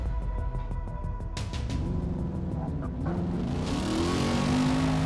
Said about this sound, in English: That roar of that GT engine.